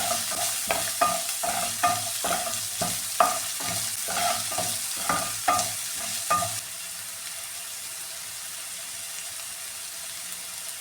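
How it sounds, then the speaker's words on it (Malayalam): Masala for a Kerala-style prawn roast sizzling in a pan, with about a dozen rhythmic spoon scrapes and taps during the first six seconds, then a steady, quieter frying hiss alone. "നന്നായിട്ടൊന്ന് മൂപ്പിച്ചെടുക്കാമേ"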